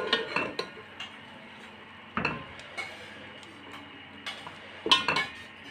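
Boneless beef being roasted in a pot with yogurt, fried onion paste and ground tomato, a spoon clinking and scraping against the metal in a few sharp knocks over a low background hiss.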